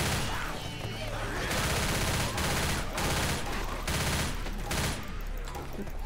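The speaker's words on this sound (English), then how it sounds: "Shoot the fish tank." Sustained bursts of machine-gun fire in Left 4 Dead 2, shooting at a fish tank, loud and dense with brief gaps between volleys, filling the whole stretch with no talking.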